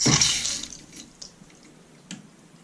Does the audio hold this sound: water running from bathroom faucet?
yes